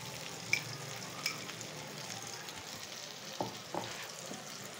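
Garlic sizzling in a pan for chicken liver, a soft steady frying hiss with a few light clinks and stirring knocks, fairly quiet with no voice over it.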